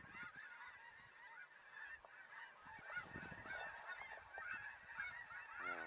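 A flock of snow geese honks continuously during a spring hunt as the birds lift off and fly away, a dense chorus of overlapping nasal calls, loud and steady throughout.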